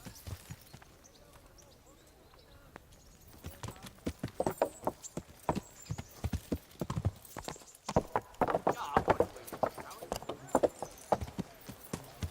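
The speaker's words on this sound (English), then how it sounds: "Get your horses mounted up and let's ride out" Several horses gallop with loud, rapid clip-clop hoofbeats on the move in Kingdom Come Deliverance, the rhythm building after a quieter start, with faint voices beneath.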